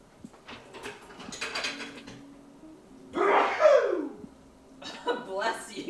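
A single sharp sneeze bursts out in a kitchen midway through, loud and close, amid scattered clattering of utensils and bits of talk before and after.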